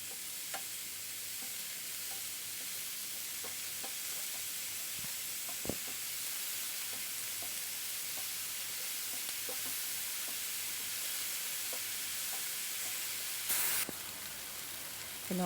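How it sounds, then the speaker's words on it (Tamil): Potatoes and mushrooms sauté in a pan for an omelette filling, giving a faint, steady hiss with occasional light clicks of a spatula and no talking. "மஷ்ரூமையும் உருளைக்கிழங்கையும் நல்லா வதக்கி எடுத்துக்கலாம்."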